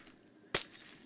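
A glass block shatters in Minecraft, one sharp bright break with a short tinkling tail, fairly close and standing out against a quiet background.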